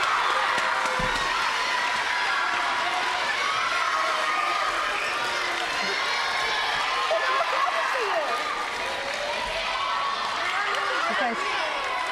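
A school gathering of elementary students and families applauds at an end-of-term awards ceremony, steady dense clapping mixed with children's cheers and crowd chatter filling the room throughout.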